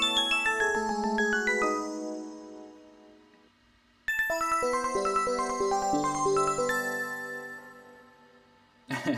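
Soloed synthesizer lead motif from an indie pop production, playing bright, bell-like melodic notes in two phrases separated by a brief drop, clear and upfront with no voices.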